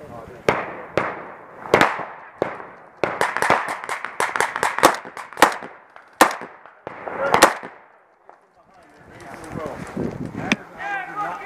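Blank rounds fire during a milsim airsoft game, sharp loud cracks in irregular bursts and single shots, some rapid strings, with people shouting and talking between and over them.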